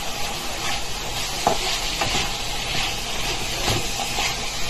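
Green beans adobo (adobo sitaw) seasoned with magic sarap sizzles steadily in a pan, with a few scraping stirs of a utensil breaking through the constant frying hiss.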